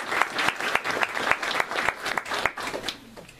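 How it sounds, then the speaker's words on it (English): A small audience claps for volunteers at a Little Rock fire station history talk, a brief round of distinct, fairly close handclaps with audible individual strikes, thinning out toward the end. "So another round of applause for those folks that volunteered to help."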